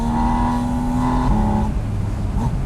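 A Porsche 718 Spyder RS engine screams between 8,000 and 9,000 rpm with a sustained shrill tone, then shifts and drops briefly before climbing again, loud and close.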